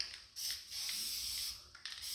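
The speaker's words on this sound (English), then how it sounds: "All right, we'll spray it on there." An aerosol can of copper gasket sealant sprays onto engine heads during an engine build, giving a steady close hiss in several long bursts with brief gaps and no talking.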